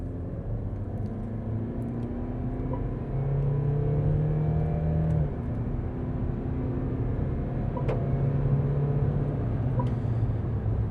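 A 2026 Mercedes V-Class Extra LWB V300d diesel van accelerates after a turn, heard from inside the cabin as a steady low engine rumble that rises in pitch through the gears and carries on into a smooth cruise.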